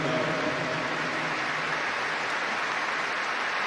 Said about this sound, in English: Rises with spontaneous applause.